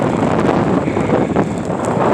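Strong wind whips snow across an open field, a steady roaring rush with heavy buffeting on the microphone and no pauses.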